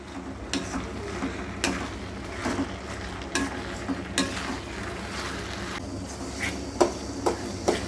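A spatula scrapes and stirs roadside-style mushroom masala with cabbage in a pan over medium heat. The scrapes come at irregular intervals over a steady close sizzle of frying.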